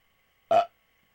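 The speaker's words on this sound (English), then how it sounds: "My belch" A single short belch from a man, loud and close, standing alone against silence.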